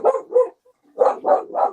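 A dog barks five times in two quick pairs and a trio, close and loud, with a short silent gap between the groups and no talking.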